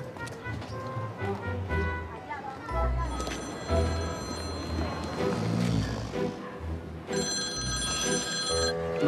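A telephone rings on and on without being picked up, its bell tones repeating over busy, loud background sound with some voices talking.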